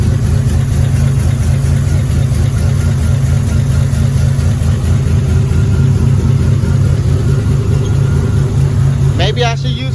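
A Buick Grand National that had sat unused for a long time idles steadily close by in a rough, continuous rumble, with a short sharp chirp at the very end.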